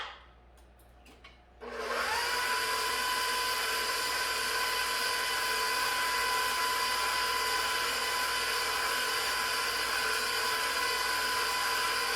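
After a moment of quiet, an electric mixer whirs on steadily and continuously for chocolate chip cookie dough with butter, a loud, even hum up close.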